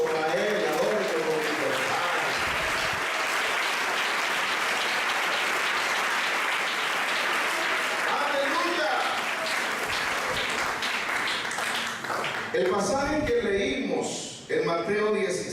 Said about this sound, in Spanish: Fuerte ese aplauso para Él, adórenlo con libertad.